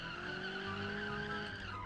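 Video-game car tires skid and squeal under last-second hard braking, one steady near screech held for about two seconds with engine tone beneath.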